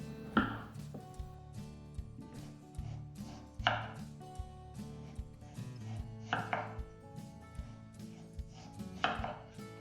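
Peeled potatoes being sliced into thin strips with a knife for a tartiflette. Four crisp, separate cuts land a few seconds apart over steady background music.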